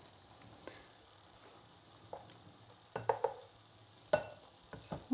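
Potato patties with egg and sour cream fry quietly in a pan, a low steady sizzle broken by a few scraping stirs and clinks of a utensil against the pan.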